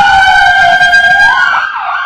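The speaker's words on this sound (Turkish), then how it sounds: "Sağlık Bakanlığı tarafından Artvin'e gönderilen tam donanımlı 7 ambulans hizmete girdi." A loud, close ambulance siren wails in a steady electronic tone, then sweeps and falls in pitch near the end, with no voices.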